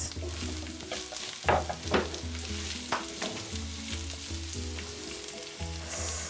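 Small kapenta fish sizzling and frying in a pan, a steady crackle with a few louder scrapes of stirring, close by and with no talking.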